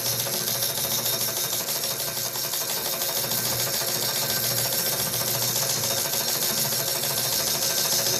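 A sewing machine runs steadily, winding thread onto its bobbin with a continuous, fast mechanical whir and rattle that stays loud and close from start to finish.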